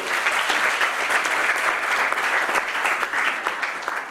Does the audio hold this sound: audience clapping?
yes